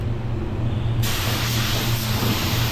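A spray gun applies PPG automotive paint in a steady, close hiss that starts abruptly partway through and runs continuously over a low background hum, with no talking.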